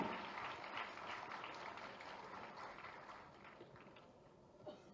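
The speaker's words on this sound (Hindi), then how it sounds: "कुमारी पूजा के लिए एक बार जोरदार ताली" Applause from an audience at a state-level award ceremony for a creative disabled woman, a steady dense wash of clapping that thins slightly toward the end.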